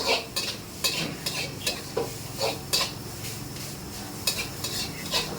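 Food is cooked to order at a Macau food stall: a continuous oily sizzle with regular metallic clinks and scrapes of a spatula stirring in a pan, close up and steady.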